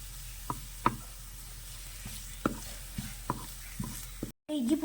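Ginger garlic paste sautés with onions in a pan for chicken chukka, a steady close sizzle broken by sharp scraping and knocking strokes of a stirring spoon, before a brief cut and a short burst of different sound.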